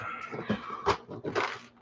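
A puppy whimpering indoors near a workbench where a remote-control truck is being repaired, a few short close whines and squeaks in quick succession.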